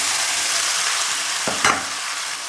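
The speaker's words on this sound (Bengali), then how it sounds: "ম্যারিনেট করা চিংড়ি মাছগুলো কড়ার মধ্যে" Marinated raw prawns for a mustard prawn curry sizzle loudly in a wok, a constant near hiss broken by a couple of sharp spatula scrapes and clatters midway.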